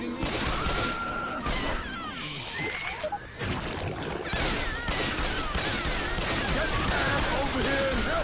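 Video game gunfire in Left 4 Dead 2 crackles in dense rapid bursts throughout, mixed with game noise and clatter, loud and close.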